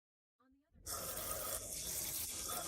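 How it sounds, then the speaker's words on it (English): Water gushes suddenly from a tap into a newly unclogged sink after a brief faint bit of sound, then keeps rushing steadily and loudly down the drain. "The sound of the water rushing freely is like music."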